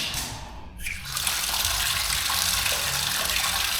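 Strong, steady water flow gushing in a campsite shower room at Aquino Campsite in Morong, Bataan, starting softer then rising into a loud, continuous broadband rush.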